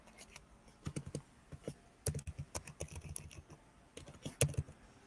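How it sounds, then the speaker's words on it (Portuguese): Fingers type on a laptop keyboard, with quick irregular clusters of crisp key clicks and short pauses between bursts, close and fairly quiet with no talking. "Toda hora eu tô errando aqui no teclado do notebook."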